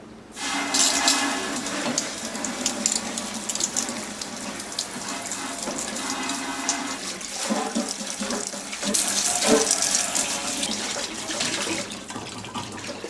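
Running water rinses out a cleaned deep fryer, a steady close splashing gush that swells and settles in intensity across the stretch, with no voices.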